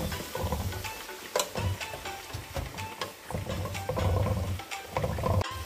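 Vegetables being stirred into a pan of sautéed lamb, with a continuous sizzle and scraping of the spoon against the pan, close and fairly loud, with no talking.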